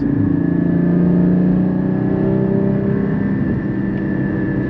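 A Porsche GT3 engine runs with a loud, steady mechanical drone from close by, its low rumble and whining harmonics holding at a constant level throughout.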